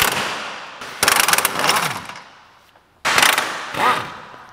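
A hand ratchet loosens subframe bolts under an MK7 car during a caster control arm upgrade, heard up close as two loud bursts of rapid clicking separated by short pauses.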